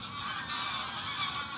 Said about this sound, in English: Geese taking off.